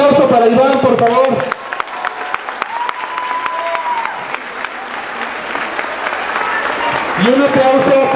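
A crowd claps steadily in applause for a long-serving employee, with voices speaking briefly at the start and again as the clapping fades at the end.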